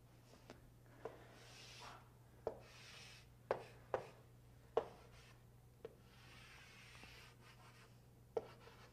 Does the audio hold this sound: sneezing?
no